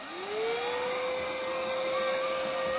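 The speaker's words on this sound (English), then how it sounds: "So I want to show you guys how good this vacuum is." A cordless vacuum cleaner spins up and runs steadily, its motor whine rising quickly at the start and then holding a constant loud hum and airy rush without pause.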